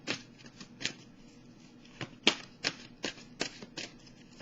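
A deck of oracle cards is shuffled in short, quiet, papery riffles and slaps, repeated in an uneven rhythm close by.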